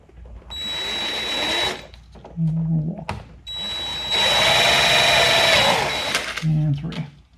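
A drill bores pilot holes through speaker templates on a Kawasaki Vulcan Voyager VN1700 motorcycle, whining loudly in two long bursts with short pauses between them, while someone speaks briefly during the gaps.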